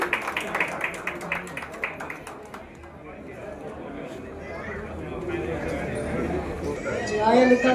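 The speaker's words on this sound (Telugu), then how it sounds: "ప్రజోష్ గారు ఒకసారి కొంచెం గట్టిగా క్లాప్స్ కొడదామండి" An audience at a diamond jewellery show in Guntur claps in a loose burst of applause at first, then the sound fades into a crowd murmur. People talk over it.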